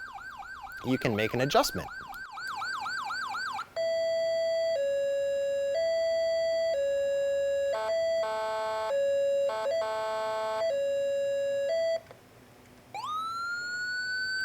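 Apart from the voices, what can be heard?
electronic emergency vehicle siren tones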